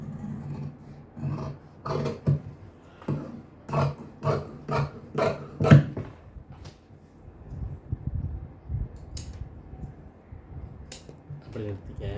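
Scissors snip through fabric while a blouse pattern is cut, a series of crisp, close cuts in a steady rhythm that later thins to scattered rasping and handling sounds, with someone talking over parts of it.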